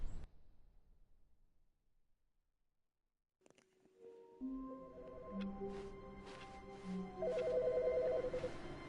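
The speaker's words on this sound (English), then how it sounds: "Phone." An office telephone in The Stanley Parable starts ringing after a stretch of near silence, its repeated electronic trills rising in loudness over soft game music.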